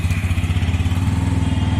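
A Bajaj N160 motorcycle engine, 2024 model, runs loud and close in a steady, thumping idle with a regular pulse all the way through, and nobody speaks.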